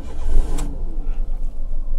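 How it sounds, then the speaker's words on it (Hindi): A car engine idles just after starting, a low steady rumble close by, with a brief higher burst near the start and no speech over it. "ये गाइस हमने गाड़ी कर दी है अपनी स्टार्ट"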